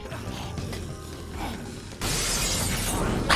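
Glass shatters in the Dead Rising 2 video game: after a muffled stretch of mechanical clatter, a sudden loud crash of breaking glass bursts in and sustains as a bright, noisy spray of shards, with no talking.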